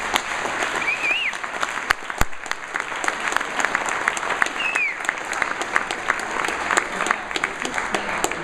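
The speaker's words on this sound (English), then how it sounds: "I'd like to ask for a big round of applause for our" A conference audience at a Passive House Northwest gathering gives a big round of applause, dense steady clapping from many hands with a few whoops rising above it.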